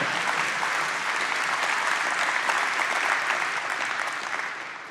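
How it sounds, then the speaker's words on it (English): Keynote audience applauding, a broad, steady roar of clapping from a large crowd that holds evenly and fades slightly at the close. "you can clap for that"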